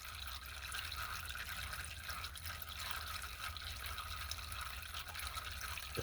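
Transmission fluid pouring steadily out of one side of a Ford Taurus transmission pan, a continuous liquid splatter that holds at the same level throughout with no talk.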